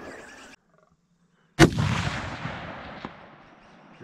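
A single loud, close rifle shot from a deer hunt on free-range red and fallow deer ground, a sharp crack followed by a long rolling echo that fades over several seconds.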